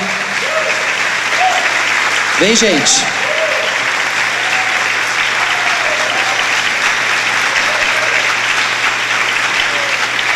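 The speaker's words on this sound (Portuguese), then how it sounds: "Eu queria que a igreja recebesse eles com aplausos, honrando essa família" A church congregation at a youth congress applauds to welcome and honor a family; steady clapping throughout, with a voice briefly speaking over it and a few voices calling out.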